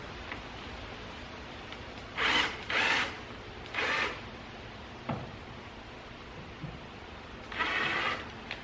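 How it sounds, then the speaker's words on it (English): Power drill fitted with a drill bit, boring into metal while fitting tow hooks to a Toyota Tacoma: several short close whirring bursts separated by pauses, each lasting about a second, with small clicks between them. "So I'm going to drill. Using a pretty good drill bit."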